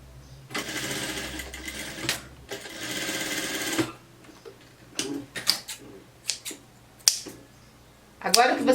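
A sewing machine stitches a folded fabric hem in two long whirring bursts, followed by quieter handling clicks and taps, with someone talking under and between the runs.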